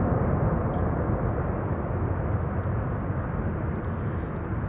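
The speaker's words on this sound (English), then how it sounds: "Chinese triple, landing on the runway that is now also in use for arrivals" A Chinese Boeing 777 airliner lands on a runway at Amsterdam Schiphol Airport, producing a steady, loud broadband roar of engines and airflow that holds at an even level throughout.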